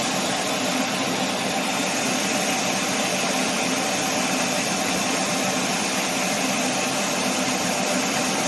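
A 1997 Ford Taurus engine idles steadily after a transmission cooler install, a constant broadband hum and whir with no pauses, close and moderately loud throughout.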